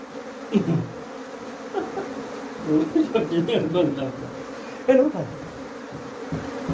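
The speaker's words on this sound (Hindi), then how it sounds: "मधुमक्खी को मैंने इधर झाड़ दिया है" Apis cerana honeybees buzz and drone as they are brushed into a traditional hive box, the swarm humming in irregular swells close by, with a voice talking now and then.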